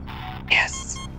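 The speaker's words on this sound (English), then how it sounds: "That's beeping so much." Electronic beeping from the Alien Isolation video game comes as a short bright tone burst with a faint hum underneath, brief and fairly close within a quiet game soundscape.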